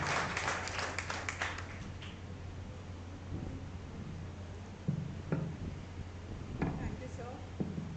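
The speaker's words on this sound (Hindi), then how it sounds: "सभी ताली मारेंगे मैम के लिए और big applause." Audience applause at a special university lecture on stress and mental health, a dense burst of clapping that fades after about two seconds into scattered claps and room noise.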